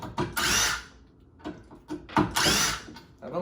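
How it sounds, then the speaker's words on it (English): An impact driver runs screws into a 4x4 wood post in a garage, with two loud bursts of whirring and hammering separated by quieter clicks and handling knocks, close up and with no talk. "We're just two guys in a garage running screws in a 4x4."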